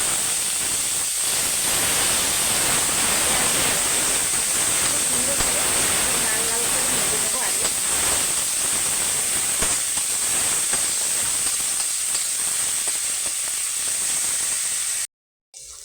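Onion sliced with dried chili and five-spice frying in hot oil, giving a steady, loud broadband sizzle and hiss that runs unbroken for about fifteen seconds before cutting off abruptly near the end.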